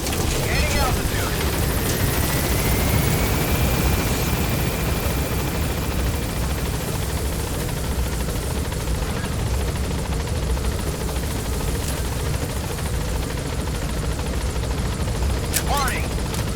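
Helicopter lifting off in the video game Metal Gear Solid V, a loud steady rotor roar and engine whine filling the whole stretch, close and constant, with a brief rising whine near the start.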